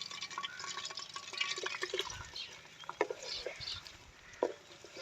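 Onions dropped into hot ghee in a pan for a village-style chicken and potato curry, giving a soft, crackling sizzle with small pops and clinks throughout.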